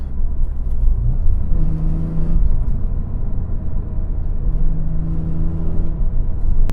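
BMW E46 M3 exhaust note heard from inside while driving, a loud steady engine rumble with brief rises and dips in revs and no talking.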